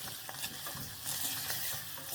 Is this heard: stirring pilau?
yes